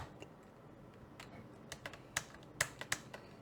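Keystrokes on a computer keyboard, sparse and quiet at first, then a run of sharper, louder clicks in an uneven rhythm, close by with no talking.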